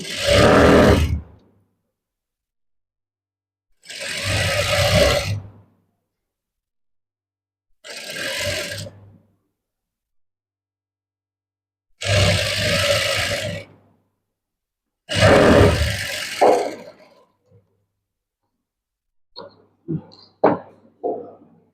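Sewing machine stitching blouse lining in runs of about a second each, five loud motor bursts separated by silent pauses, followed by a few short quick taps.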